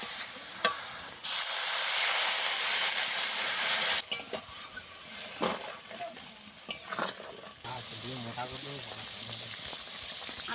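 Water is poured into a hot pan of frying sugar, setting off a sudden loud hissing burst that holds for a few seconds, then eases into a softer bubbling sizzle with utensil clinks as a voice talks near the end.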